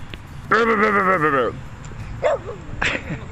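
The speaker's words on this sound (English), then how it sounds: "That's my dog." A dog lets out a single drawn-out, whining bark up close, followed by a couple of shorter yips, with a person's voice in the background.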